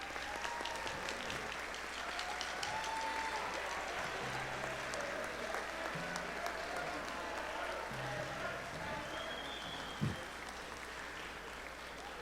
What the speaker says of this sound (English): give these students a round of applause